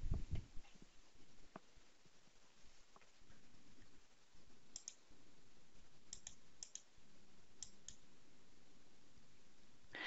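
A computer mouse clicks sharply a few times, close and quiet, against a faint steady room hum with no talking.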